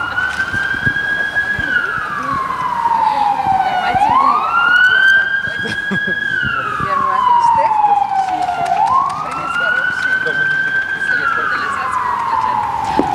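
Ambulance sirens sound at an outdoor handover ceremony for new ambulances, with a loud, close wail rising and falling in long, repeated sweeps.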